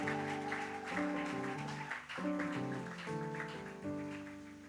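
A church congregation applauds during an evening worship service, a steady wash of clapping blended with sustained keyboard or organ chords throughout.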